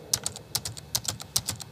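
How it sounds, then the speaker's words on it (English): Typing on a computer typewriter pad to enter musical notes, brisk bursts of light key clicks coming in small regular clusters, close and alone. "I can either input the notes onto the virtual score on the screen by this typewriter pad here"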